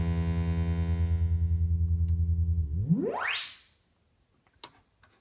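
A Retro 158 FM synthesizer sine tone: a steady droning note, then a smooth, pure tone sweeping sharply upward in pitch before cutting out, with faint clicks after.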